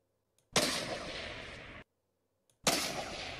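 Two bolt-action sniper rifle shots from a Fortnite weapons mod in Minecraft Pocket Edition, each a loud, sudden blast that rings out for over a second and stops abruptly, spaced about two seconds apart, with no talk.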